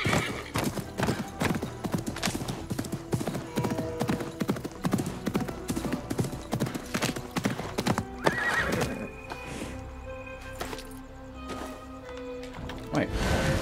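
Horse hooves in Assassin's Creed Mirage, rapid clip-clop beats running throughout with a neigh partway through, close and steady over game ambience, with faint talk.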